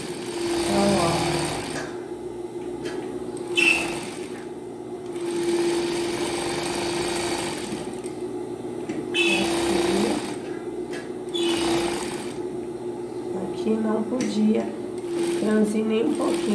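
A sewing machine stitches a plain seam around a piece of fabric, running in a steady continuous whir with brief pauses and stops, close and fairly loud, with a person talking over it in places.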